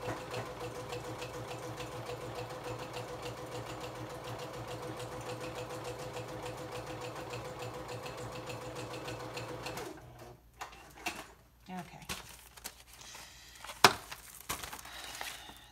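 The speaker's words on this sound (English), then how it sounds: "I'm just going to add a little stitching right down there, just in case I caught it." A sewing machine stitching through a paper junk mail folio, a steady fast mechanical whir and needle chatter for about ten seconds, then stopping, followed by scattered handling clicks and a few sharper knocks.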